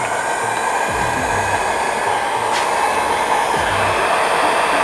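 A heat gun blows loudly and steadily close by while it warms tint film on the tail light of a 1999–2004 New Edge Ford Mustang, a constant whooshing hiss with faint clicks underneath.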